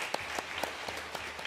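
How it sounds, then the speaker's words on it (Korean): A church congregation at a Sunday service applauds to welcome a newcomer, a short burst of soft, steady clapping from a crowd heard at moderate distance. "우리 박수로 환영합니다"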